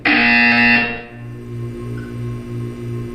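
A loud electronic buzzer from the video game Portal 2 sounds for about a second, then fades into a low, pulsing hum.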